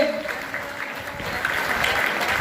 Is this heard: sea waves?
no